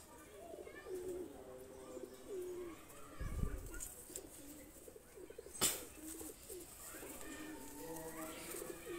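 Single-tailed pigeons coo in low, repeated rolling calls nearby, with a faint voice in the background and one sharp flapping burst partway through.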